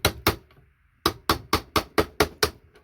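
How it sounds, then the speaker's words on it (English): A hammer strikes a chisel to chip apart scrap IC chips: two sharp metallic blows, a short pause, then a steady run of seven evenly spaced hits, close and loud with no talking. "using a chisel and a hammer"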